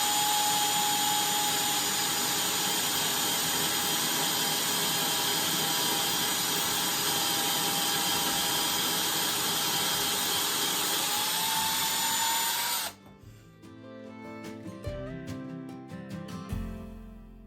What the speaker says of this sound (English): Now you want to take your time when you're drilling these holes.